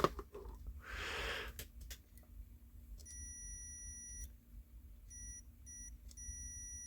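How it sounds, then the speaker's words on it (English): Thin, high electronic beeps from a multimeter continuity tester checking a coil sound in a few short bursts, one longer tone then several brief ones, quiet over faint background rustling. "I don't know if you can hear that beep or not"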